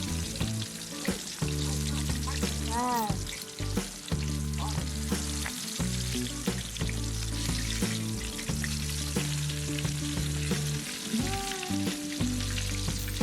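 Chicken deep-frying in hot oil in a wok over lowered heat makes a loud, dense, steady sizzle throughout, with occasional stirring knocks and a faint tonal whine above it, and no voices.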